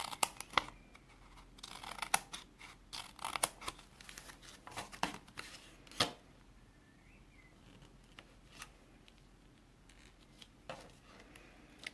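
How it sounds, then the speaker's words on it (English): Small scissors snip apart connected rhinestones at a paper-crafting table, with a series of faint, sharp clicks in an irregular rhythm over quiet room tone. "so I'm just going to snip these apart."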